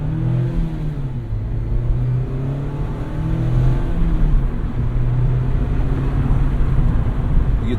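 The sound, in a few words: Mazda Miata ND3 engine accelerating on road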